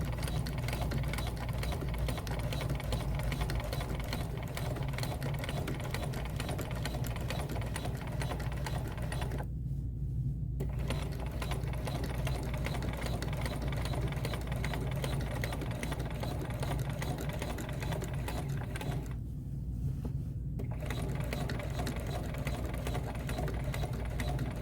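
A sewing machine runs steadily stitching in the ditch along quilt seams, a continuous mechanical whir with two brief stops before it resumes.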